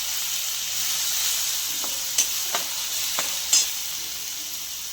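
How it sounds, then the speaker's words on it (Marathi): Cumin, curry leaves and crushed green chili thecha sauté in a pan, giving a steady hissing sizzle. A few quick spatula clicks and scrapes land near the middle, close by and with no speech. "त्यानंतर जिरं, त्यानंतर कढीपत्ता आणि जो आपण ठेचा बनवून ठेवला होता तो ठेचा ॲड करायचा आहे."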